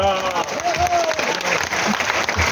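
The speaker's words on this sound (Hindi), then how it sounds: "उस उत्तर पर आपकी गगनचुंबी तालियां देखना चाहता हूं" Audience applause at a Hindi poetry recitation by a poet, a dense wash of clapping filling the whole clip with a voice faintly carrying over it.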